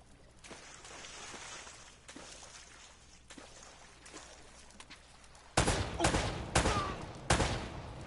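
Several loud, sharp gunshots in the Uncharted video game, spaced about a second apart near the end after a stretch of quieter game ambience and scattered distant pops.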